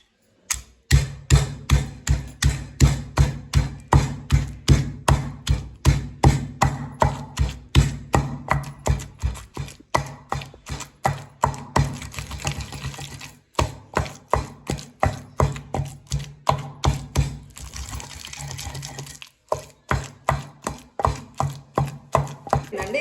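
Chutney ground by hand in a stone mortar, a steady rhythmic pounding and grinding of stone on stone, repeating about twice a second, close and loud, with two brief pauses.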